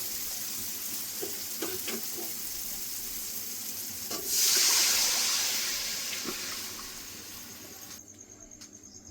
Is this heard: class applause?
no